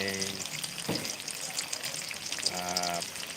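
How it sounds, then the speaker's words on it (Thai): Battered winter melon pieces fry in hot oil with a steady, crackling sizzle throughout, joined by a couple of brief stirring or scraping sounds close by. "เอาฟัก ที่หั่นเป็นชิ้นๆแล้วมาทอดนะครับ"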